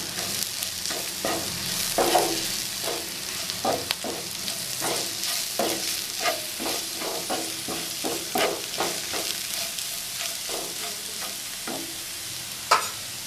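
A Kerala-style clam roast with pepper is stirred in a pan, a spoon scraping in a steady, repeated rhythm over a continuous close sizzle of frying, with no voices.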